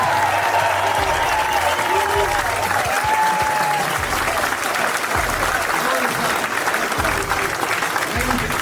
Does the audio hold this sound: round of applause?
yes